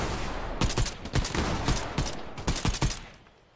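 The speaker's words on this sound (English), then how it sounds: "Oh, they're shooting at me." Other players firing in Fortnite, with clustered bursts of sharp shots at a fairly close range and short gaps between them, tapering off at the end.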